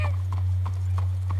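Horse hooves clip-clop at a steady walking pace while the horse is led in the video game Red Dead Redemption 2, even and close, over a constant low hum.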